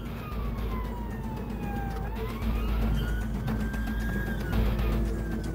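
A police motorcycle's wailing siren rises and falls continuously over a steady engine drone, loud and close, with no talking.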